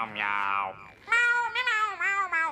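A SpongeBob cartoon character imitates a cat with a voice, a drawn-out nasal meow followed by several quick, bright meows in a rapid string, loud and close.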